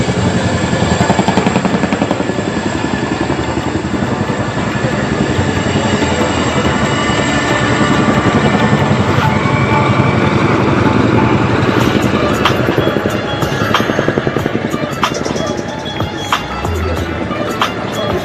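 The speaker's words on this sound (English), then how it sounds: "As you can see, the Chinooks in front of you carrying out a rear takeoff" Two Chinook twin-rotor helicopters perform a rear takeoff at an Indian Air Force air show rehearsal in Bhopal, a loud, continuous rotor thudding and engine roar that persists throughout with sharp crackling bursts.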